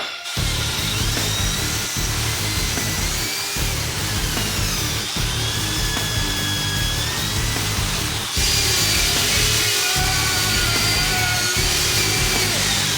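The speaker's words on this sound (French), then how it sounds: "on va utiliser une grosse perceuse avec une belle brosse métallique au bout" A large drill fitted with a wire brush scuffs the plastic parts of a Cyma AK74U airsoft replica, a continuous grinding whir running under loud metal music.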